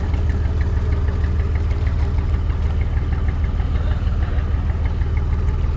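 A houseboat engine at Alappuzha chugs steadily as the boat moves slowly, a loud, close, even low-pitched knocking rhythm heard from the back of the boat with no talking.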